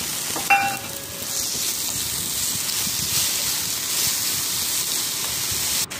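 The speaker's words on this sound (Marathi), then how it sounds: "तर आता पॅनमध्ये तेल टाकलेले आहे आणि 2 मोठे कांदे लालसर आपल्याला होईपर्यंत भाजून घ्यायचे आहेत" Onions sizzling in hot oil in a frying pan, with tomato joining them, for a kadhai mutton base; a steady, close broadband hiss runs throughout, with a brief stir or clatter near the start.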